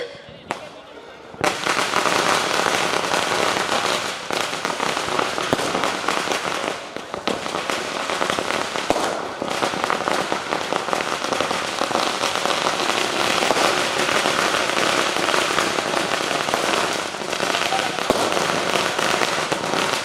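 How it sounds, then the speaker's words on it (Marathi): Firecrackers burst in a dense, continuous crackling barrage at a 2026 New Year celebration in Kalyan. After a brief quieter opening the volume jumps, and rapid loud pops stay thick and unbroken for the rest of the clip. "फटाक्यांचं देखील आयोजन केलेलं आहे का नाही?"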